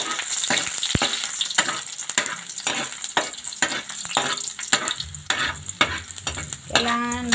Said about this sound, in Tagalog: Sunod kong ilalagay, mainit na masyadong mantika, ay ang bawang.